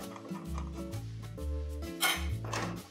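A cooking pan is lifted and set down on a stovetop heating to high, giving a few close, sharp metallic clanks and scrapes in quick succession.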